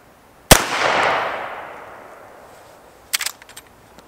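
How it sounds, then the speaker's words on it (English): A Henry lever-action Axe .410 fires one Winchester shell at 10 yards: a single sharp, loud blast with a lingering outdoor echo, followed a few seconds later by a quick cluster of metallic clicks from the lever being cycled. "So we load it around to that Winchester and let's see what happens at 10 yards."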